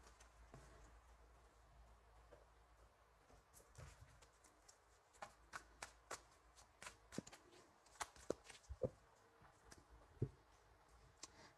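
Tarot cards being shuffled before a reading, a quiet run of soft riffling clicks and slaps that grows busier in the second half, with no talk.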